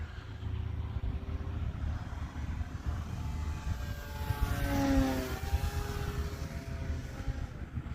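A radio-controlled Tower Mustang model airplane flies at nearly full throttle, its propeller engine droning steadily outdoors and swelling louder as it passes close, then falling away again.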